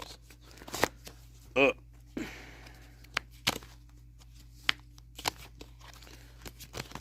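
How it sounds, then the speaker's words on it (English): A deck of cards being shuffled, with a few sharp riffles and snaps spread out among quiet gaps and faint rustling. No one speaks over it. "As I shuffle the cards."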